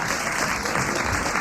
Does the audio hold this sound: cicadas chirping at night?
no